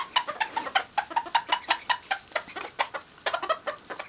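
Chickens cluck busily close by while digging for worms, a quick, uneven run of short clucks and chatter with no voices heard.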